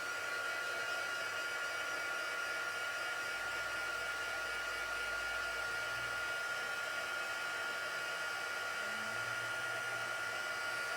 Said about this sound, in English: bear with me while I heat up my embossing tool